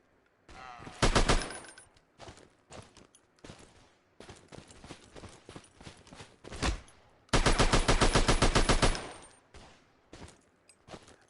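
Rapid automatic gunfire in a deathmatch video game, with long loud bursts of rattling shots near the start and again near the end, separated by scattered single shots and quieter stretches of game noise.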